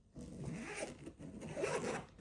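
A clothing zipper is pulled closed in a few scratchy, rasping runs, close and fairly loud, with no talking over it.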